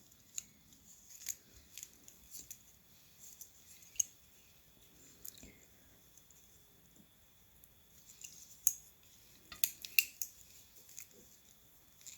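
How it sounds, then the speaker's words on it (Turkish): Small scissors snip black thread during shuttle tatting (mekik oya) lace work; several faint, crisp clicks scattered across a quiet room, with soft handling noises between cuts. "ipimizi keselim."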